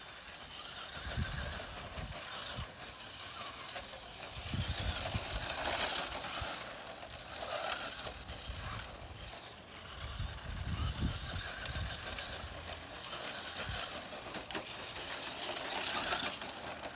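A Traxxas 1/16 Slash 4x4 RC truck buzzes around a bumpy homemade dirt track, its high electric whine rising and falling in repeated bursts as it accelerates and slows, moderately close.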